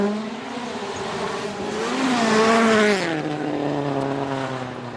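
A rally car on the Finland Rally 2013 power stage sweeps through the final corner, its engine note climbing and then dropping as it passes close by, loud and alone.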